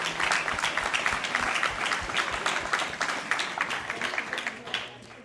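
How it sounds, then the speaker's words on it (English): Graduation ceremony crowd for guide dog and orientation-and-mobility graduates gives a round of applause, with distinct individual claps audible within a moderately loud wash that gradually fades toward the end. "just one final round of applause for our 4 OMI graduates"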